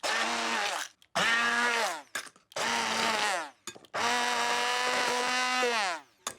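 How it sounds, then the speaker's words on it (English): A stick blender pulsing berries whirs in four bursts of a few seconds each, separated by short pauses, close and steady. "I'm just going to speed the whole thing up by using a stick blender."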